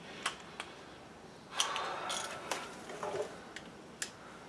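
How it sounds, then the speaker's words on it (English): An 11 mm wrench tightens a banjo bolt on the brake line of a 2004 GMC Sierra 1500, giving sparse metallic ticks and ratcheting clicks, with a short scraping crank in the middle and no speech. "Now I'll get my 11 mil. I'm going to give that banjo bolt an extra little crank."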